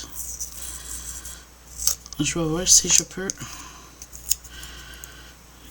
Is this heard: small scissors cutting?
yes